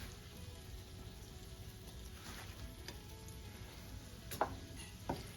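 Bacon sizzles and fries in a pan with beaten eggs for a frittata, a steady close crackling hiss throughout with a couple of sharper pops near the end.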